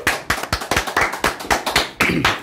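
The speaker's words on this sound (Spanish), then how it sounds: "¡Fuerte un aplauso," A small studio group claps to cheer the guest during an interview show: sharp, loud, closely miked hand claps in a quick, uneven rhythm, with no voices over them.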